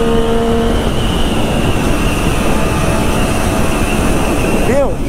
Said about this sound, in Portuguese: Moto leve, compacta, estreitinha, entre eixos curto, um motor forte